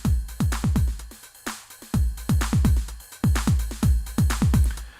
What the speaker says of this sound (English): The whole drum pattern sounds like this when it's all played together.